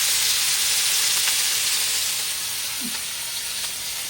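Fish pieces sizzle steadily in hot oil, a continuous close frying hiss with no talk over it.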